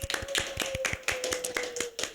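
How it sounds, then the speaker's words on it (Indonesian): Hands clap sharply and steadily at the opening of a podcast, the claps near and fairly quiet, with a faint steady tone running underneath. "Tepuk tangan."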